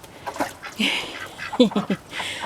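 Ducks quack in a garden, a few short nasal calls clustered in quick bursts, fairly close and moderately loud, with some scattered background noise between them.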